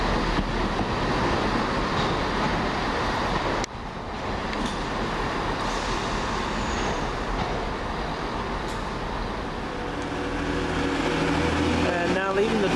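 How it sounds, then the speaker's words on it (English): A delayed First TransPennine Express service from Manchester Piccadilly to Hull rolls through Huddersfield station, a loud, steady rumble of wheels and engine that fills the whole stretch, with faint screeches toward the end. "this is working the delayed 12:16 first Transpennine Express service to Hull"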